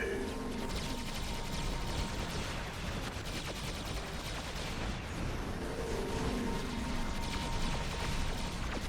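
Basic phasers firing from the starship Defiant in a space combat game, a dense, continuous rattling energy barrage with mechanical crackle, loud and unbroken throughout.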